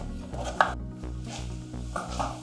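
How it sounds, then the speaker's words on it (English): A kitchen knife chopping capsicum on a cutting board for a chicken stir fry, several quick close cuts with one sharper knock, over a steady low background hum. "Just run the knife through it"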